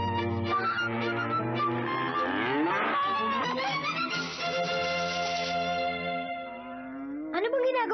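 A cartoon sheep character lets out a long, loud, drawn-out cow-like moo that rises and wavers for several seconds, followed by a brief second call at the end, voiced in imitation of a cow.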